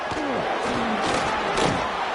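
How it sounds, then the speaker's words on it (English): A football stadium crowd roars steadily to back the defense as the opponent sits near the goal line, a dense wall of cheering and shouting with swells of noise and no clear break. "The crowd really making some noise now, trying to help out this defense to get this stop near the goal line."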